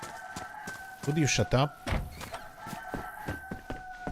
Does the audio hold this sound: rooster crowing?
yes